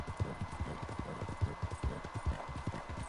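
Horse hooves clip-clop steadily at a brisk walking rhythm in the Red Dead Online video game, fairly close and moderately loud, with a soft ambient background and no talking.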